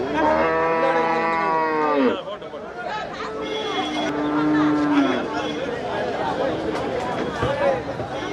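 Cows moo loudly and repeatedly at a busy cattle market in Melur, with long low calls rising over a constant crowd babble and nearby people talking.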